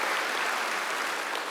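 A church congregation at an online worship service claps together in a steady, dense wash of applause, close and continuous for the whole short stretch, with no voices standing out.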